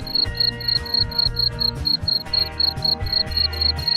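Crickets on a cricket farm chirp in quick, regular high-pitched pulses, dense and close, over a low rhythmic thumping background with no voices.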